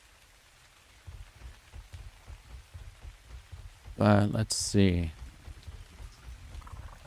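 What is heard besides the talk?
rain in a video game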